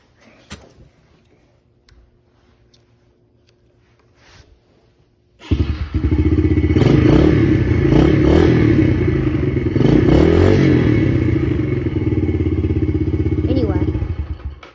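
A Yamaha TTR 110 four-stroke dirt bike engine starts after a quiet stretch and runs loud and close at a steady idle with slight revving and mechanical clatter for the rest of the clip.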